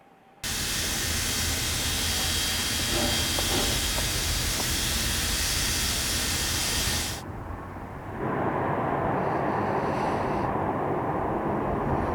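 An old-time steam train lets out a loud, steady hiss, broad and constant for about seven seconds, then drops to a lower rumbling roar that runs to the end.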